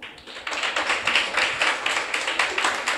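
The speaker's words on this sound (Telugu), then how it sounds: "చప్పట్లు కొట్టాలి." A church congregation claps hands together in a dense, steady burst of rapid overlapping claps that fills the whole moment at an even, fairly loud level.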